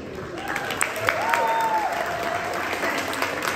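An audience at a birthday celebration in Philadelphia claps steadily in a dense, sustained burst of applause that fills the whole stretch, with a few voices rising over it.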